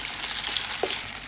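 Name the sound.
chicken noodle lollipops frying in oil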